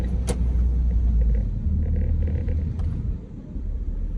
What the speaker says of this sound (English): I got a car behind me that's kind of tailing me